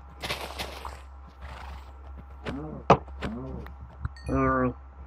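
A Minecraft horse whinnies in a few short, wavering calls, followed by a louder, longer neigh at the end, with some hoof and rustling noises.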